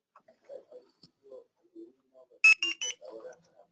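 A Zebra RFID device powering on gives three short, bright electronic beeps in quick succession, set among quiet clicks and faint background sounds.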